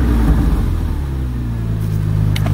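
A car engine, mentioned as a four-cylinder, idles high close by with a loud steady rumble and a faint rise in pitch partway through, with no voices over it.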